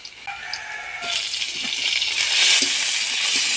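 Chicken pieces frying in a pan with chopped onion, green chili and garlic, a steady hiss of sizzling that swells after the first second and stays strong, with faint stirring clinks underneath.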